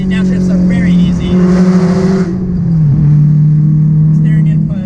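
A Honda S2000 CR's engine revs through a manual downshift, a loud, steady drone that dips briefly and blips back up to hold a sustained note close by.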